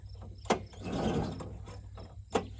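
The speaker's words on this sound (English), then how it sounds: "The bearings are packed with sand. I mean, Hear the squeaking. That's dry crank bearings." Dry crank bearings in an old snowmobile engine, packed with sand, give off a gritty squeaking rasp as the engine is turned by hand, with a couple of sharp clicks and no talking.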